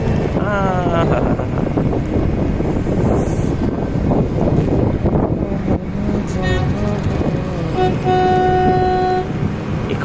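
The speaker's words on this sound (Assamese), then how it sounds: "হৰ্ণ দিছে এতিয়া লাগিব বুলি" A ferry horn sounds with a sustained tonal blast near the end, over steady wind buffeting and engine rumble, with people talking earlier.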